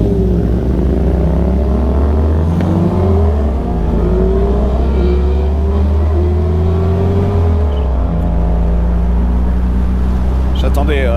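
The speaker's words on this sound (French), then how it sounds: "J'attendais que les motos s'en aillent pour reprendre la parole." Several motorcycles pass close by on a road in southern California, their engines rising and falling in overlapping sweeps over the steady drone of an open Porsche Speedster cruising along.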